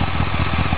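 A BMW K1200S motorcycle engine barks through a one-off Active titanium muffler, a loud close idle with a quick, even pulsing beat and no talking.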